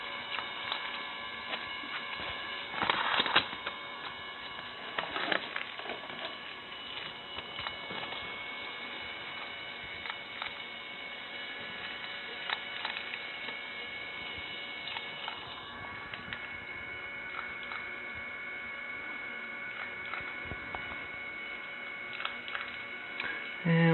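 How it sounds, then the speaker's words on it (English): A Lifepak 300 defibrillator's built-in printer runs with a steady electrical hum, layered with faint, irregular ticking and a few louder clicks. No one speaks. "we'll go ahead and turn the printer off"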